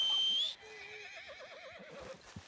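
A horse in the video game Red Dead Redemption 2 whinnies loudly with a long, wavering neigh that trails off, followed by a faint thud.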